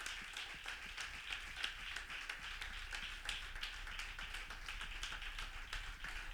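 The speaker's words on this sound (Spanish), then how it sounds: "Denle ese aplauso al Señor Jesucristo porque Él es bueno." Applause rises from a church congregation praising Jesus Christ, quick crisp claps layered into a fairly faint, steady patter that carries on for several seconds, heard from some distance.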